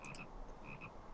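Frogs in Lord of the Rings Online give a few quick high croaks, short chirping calls in two small pairs over a low background hum, fairly faint.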